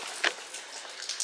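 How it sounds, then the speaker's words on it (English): Rain falling outdoors during an ice storm in Texas, a soft steady patter with a few sharper drips, faint and distant. "You see it's raining."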